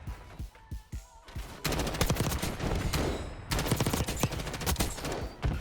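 Rapid-fire Kilo 141 assault rifle bursts in Black Ops 6, a few short shots at first, then long, loud, fast, sharp streams of gunfire with brief pauses between.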